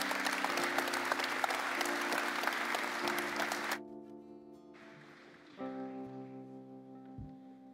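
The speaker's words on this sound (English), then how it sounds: "One more round of applause for Carl." Church congregation applauding during a worship service, a dense burst of clapping that fills the first few seconds, then cuts off abruptly and gives way to quieter sustained tones and music.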